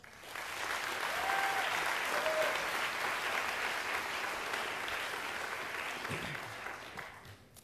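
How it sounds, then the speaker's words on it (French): Sustained audience applause, steady and full for several seconds before tapering off at the end. "Je vous demande d'applaudir Vianney."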